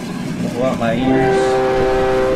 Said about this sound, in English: Let that train go through.